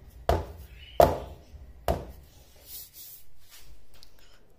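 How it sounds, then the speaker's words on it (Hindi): Cake pan filled with chocolate batter tapped three times, sharp close knocks about a second apart, followed by faint soft handling noises. "अब इस पैन को इस तरह टैप कर लेना है।"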